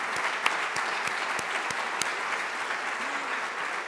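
Audience applause at a 2015 State of the County address fills the hall, a steady dense clapping crowd with a few sharper claps standing out near the front, with no voices over it.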